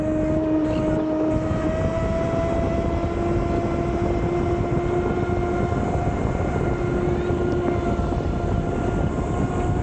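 RC boat (Sonicwake 6s) with a Castle 1650kv motor running, giving a loud, steady high-pitched electric whine with a tone that slowly shifts as it circles.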